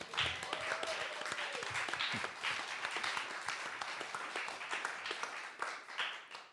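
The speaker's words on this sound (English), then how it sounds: "Round of applause, please, for all those people." An audience gives a round of applause, crisp individual claps merging into a moderately loud, steady patter that fades slightly toward the end, with faint voices underneath.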